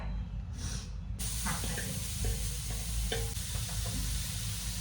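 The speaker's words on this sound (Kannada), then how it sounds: "ನೆಕ್ಸ್ಟ್ ಐಟಮ್ ಬಂದ್ಬಿಟ್ಟು ಪನ್ನೀರ್ ಪ್ಯಾನ್ ಫ್ರೈ" Paneer pan-fries in a home kitchen with a loud, steady sizzle and hiss, joined by light scraping and stirring noises throughout, heard up close.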